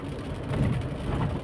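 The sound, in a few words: rain falling, with a passing car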